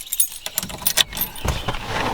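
A set of car keys jangles briefly close at hand in a driveway, a few light metallic clinks over quiet background noise.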